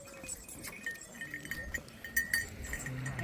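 Goats bleat at a Rajasthani goat breeder's farm, several short bleats and calls from nearby animals over a low rustling farmyard background, with faint clinks.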